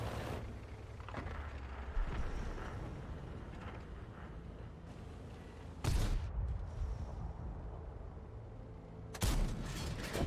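Three sharp, loud booms of Bourrasque tank cannon fire in World of Tanks, spaced several seconds apart over a steady background of engine rumble.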